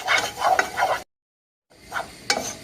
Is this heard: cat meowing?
no